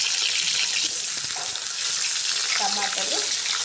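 Tomatoes frying in a pan for a village-style tomato green chili chutney, a steady close sizzle and hiss with light stirring clicks, while a voice speaks faintly underneath.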